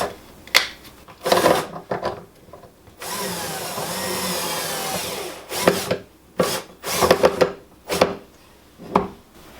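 A power drill drives a screw into a wooden drawer runner in short whirring bursts separated by pauses, with a longer steady run in the middle, close and moderately loud, no voices.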